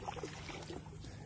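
An Ascend 128T kayak is paddled on the Chowan River at Edenton, North Carolina, making a soft, brief swish of water against a quiet, breezy background.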